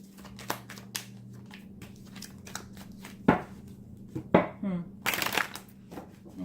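Tarot cards are shuffled by hand in quick, soft riffling bursts and slaps, close and fairly quiet, with a few sharper snaps toward the end.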